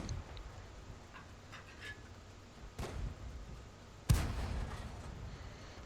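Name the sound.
SU-76M tank destroyer gun shots in a video game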